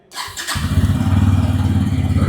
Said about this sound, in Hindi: एक बार इंजन को स्टार्ट कर लेते हैं।